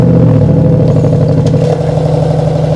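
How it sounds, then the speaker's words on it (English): Audi RS7 with 850 Newton meters of torque, engine held at a loud, steady high idle close by, a deep throbbing drone with slight variations but no sharp rev spikes. "And it wouldn't be right if I didn't rev this engine."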